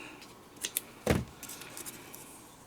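Scissors cut craft foam with one sharp, close snip in the middle and a few light clicks and rustles around it, in an otherwise quiet room.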